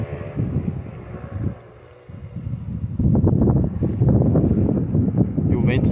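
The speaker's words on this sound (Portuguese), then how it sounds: "O vento tá forte." Strong wind buffets the microphone outdoors at a kite-flying spot, a loud, rough rumble that dips briefly then surges louder and stays heavy to the end.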